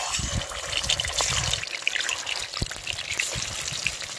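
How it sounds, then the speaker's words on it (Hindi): Fish frying in hot oil over a wood fire in an outdoor village kitchen gives a steady, close sizzle with scattered crackling pops throughout, and no one talks. "तो चलिए तेल गर्म हो गया, इसमें डालेंगे हम मछली।"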